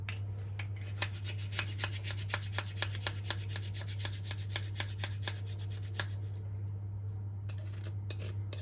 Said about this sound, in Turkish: sarımsağımızı rendeliyoruz